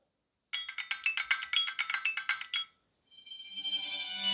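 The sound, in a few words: ringtone preview playing on Google Pixel 10a phone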